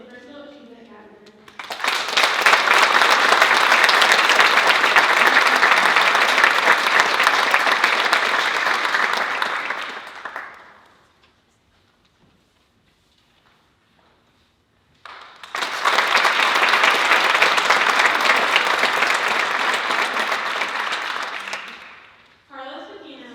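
Sustained audience applause at a county youth awards ceremony, two long bursts of clapping separated by a few seconds of near silence, loud and full with a brief trailing bit at the end.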